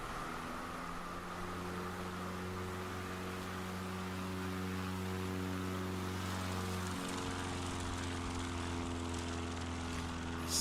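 A propeller airplane takes off in Microsoft Flight Simulator during a short-takeoff-and-landing competition. The engine drones loud and continuous with strong harmonic tones, and its pitch shifts partway through as power changes. No voices.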